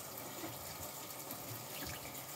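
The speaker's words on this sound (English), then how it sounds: "I'm gonna rinse off the soap real quick" A shaving soap puck is rinsed under running water, a steady, moderately quiet faucet gush with bubbly splashing throughout and no voices.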